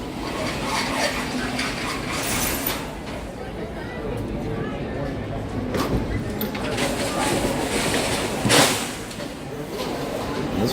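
Walt Disney World monorail train in regular gold livery, a continuous rolling rumble with mechanical clatter and a brief louder knock near the end, under faint crowd murmur.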